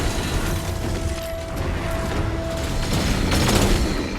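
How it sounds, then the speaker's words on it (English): A ray gun in Fortnite fires steadily at a boss's weak spot from long range. The zapping shots blend into a dense, busy wash of game noise with mechanical clatter, holding moderately loud throughout. "I could do good and consistent damage with the ray gun from long range"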